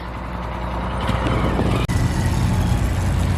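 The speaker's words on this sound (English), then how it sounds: "There's a truck." A truck rolls past nearby with a loud, broad engine roar that holds steady, plus a brief sharp dip partway through, and no talking over it.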